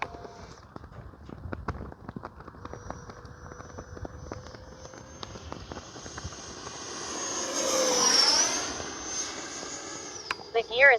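Freewing 80mm L-39 RC model jet flying overhead, its ducted-fan whine steady and then swelling into a louder pass with a Doppler sweep around the eighth second, mixed with outdoor wind noise.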